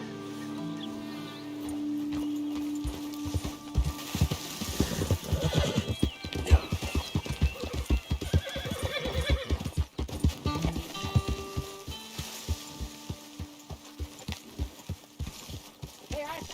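Rhythmic hoofbeats clop steadily while a horse whinnies in the video game Red Dead Redemption 2, with music and occasional talking in the background, close and clear.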